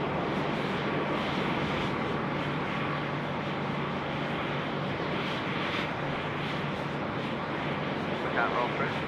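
A Boeing 737-800 lands on runway 34 left at Sydney Airport, its engines a steady, distant broadband roar that holds constant beneath talk the whole time.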